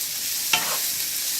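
Ground beef and onion samosa filling fries in a pan with a little oil, giving a soft steady sizzle and one brief stirring scrape partway through.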